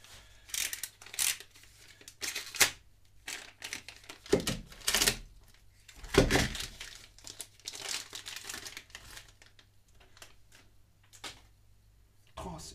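A small utility knife cuts through material while working on an E85 fuel pump module, making bursts of crinkly scraping and tearing close by, separated by quiet pauses.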